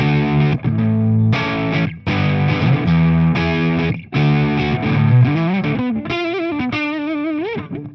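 An electric guitar played through its neck pickup with a distorted, effects-laden tone strums several loud chords, then bends into sustained, wavering single notes near the end, close and with no talk.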